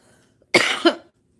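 A single harsh cough, loud and close, with a short double burst and silence before and after.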